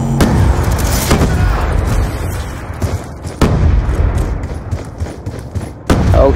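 In a shooter video game, loud explosive booms break out at intervals over steady gunfire, with a grenade blast among them. Each heavy impact is followed by crackling shots and rumbling noise.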